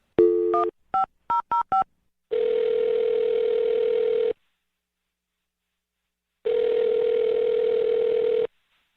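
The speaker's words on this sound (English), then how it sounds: "I'm going to dial her phone number right now." A landline handset: a short burst of touch-tone keypresses dialing a phone number, then a steady continuous tone for about two seconds, a silence, and the same steady tone again, loud and close, with no voices.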